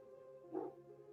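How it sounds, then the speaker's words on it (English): A single short dog bark rings out indoors around the middle, fairly faint against a steady low hum, with windy weather outside. "What's the dog barking at?"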